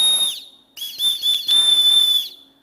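A simple toy whistle held between two fingers is blown in several loud, shrill bursts, a short blast, a pause, then longer steady tones with a slight warble.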